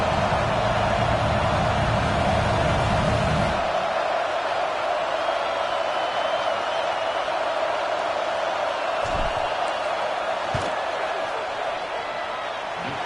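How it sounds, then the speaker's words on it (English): Crowd noise fills a football stadium during a field goal attempt in an O vs OSU college game, a dense roar that is loud for the first few seconds, then drops to a steadier wash with a few sharp thumps. "This crowd trying to do its part to get inside the kicker's head."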